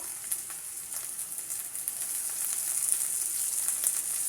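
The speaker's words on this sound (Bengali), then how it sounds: "ভালো করে আমি ভেজে নেব" Spices, ground chilli, green chillies and tomato frying in hot oil for a mutton curry, a close, soft, continuous sizzle with faint crackles and occasional stirring, growing slightly louder, no voices.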